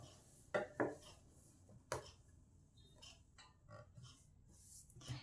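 Scissors trim excess fabric from a katori blouse after stitching. A few faint, scattered snips and clicks sit over quiet room noise, with no talk.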